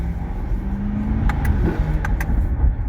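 Inside a moving Chevrolet Corvette Stingray C8, a steady low road and engine drone continues with a few brief higher clicks and squeaks, close and even throughout.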